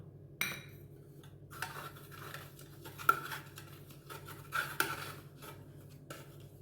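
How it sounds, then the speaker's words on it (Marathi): Metal spoon scraping and tapping against a tin as oil is spread inside it before pouring dhokla batter, a few soft clinks and scrapes spaced irregularly in a quiet kitchen. "हा डबा घेतला आहे मी ह्याला आता मी तेल लावणार आहे एक चमचा"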